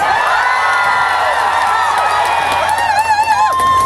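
A trot concert crowd outdoors at night claps and cheers loudly and continuously, with shouts and whoops rising over a sustained tone from the stage.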